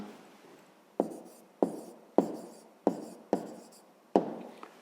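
A pen or pencil writes an answer on paper during a fifth-grade maths exercise, making a series of about seven quiet scratching strokes, each starting sharply and fading, close and alone.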